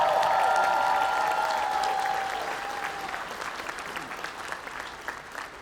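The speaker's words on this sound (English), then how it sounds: "give them all a round of applause" A large crowd at a college commencement ceremony applauds steadily, loud at first and easing slightly as the clapping continues.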